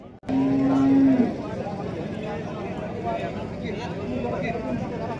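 A single long, low moo from cattle sounds close by at the Rajur livestock market, followed by the murmur of a busy crowd with people talking in the background.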